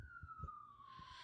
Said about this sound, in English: hopefully you can hear the fucking alarms going outside.